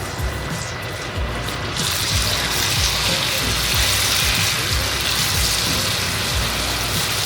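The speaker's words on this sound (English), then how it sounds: "We're going to go ahead and throw this in our hot oil." Poi mochi frying in hot oil in a small pot, a dense, steady sizzling and crackling that swells after the first couple of seconds and continues loud and close without talk.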